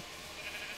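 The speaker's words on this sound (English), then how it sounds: "A grey sheep." A grey sheep bleats faintly in a video game, one thin, drawn-out cry over a soft background hiss.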